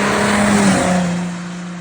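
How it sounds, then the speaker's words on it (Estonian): An Audi A6 with a Stage 1 tuned V6 engine and straight-pipe exhaust drones steadily at close range, a low sustained engine tone that swells slightly then eases, with no talking. "Tegemist on siis V6 mootoriga, millel on siis Stage 1 tuuning peal."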